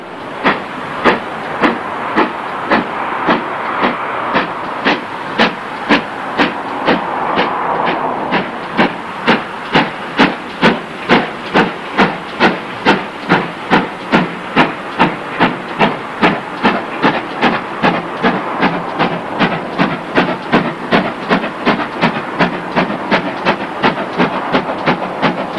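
Steam locomotive Kinlet Hall works hard hauling a heavy train, its exhaust beats pounding in a steady, quickening rhythm with hissing steam, loud and close throughout, no talking.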